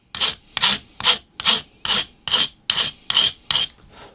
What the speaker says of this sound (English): I need a file just to finish the end, so here I go. I'll just give it a smoothing.